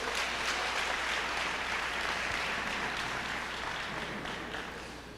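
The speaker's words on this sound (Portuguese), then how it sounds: "Sente-se aplaudindo ao Senhor." Sustained applause from a church congregation during a service, broad and steady with no voices on top, fading a little toward the end.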